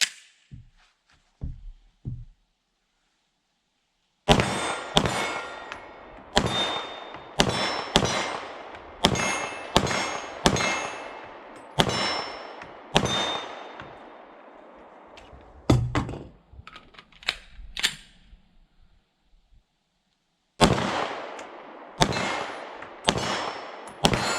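An H&K VP9 pistol fires at steel targets about 15 yards away from a deck, with sharp shots and ringing metallic clangs arriving in quick strings separated by pauses.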